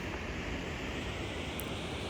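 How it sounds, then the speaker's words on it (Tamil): Water rushes steadily over the Barachukki waterfalls, a dense, unbroken roar that fills the whole stretch at a constant loud level, with no voices heard. "இந்த பக்கமும் தண்ணி நிறைய வருது"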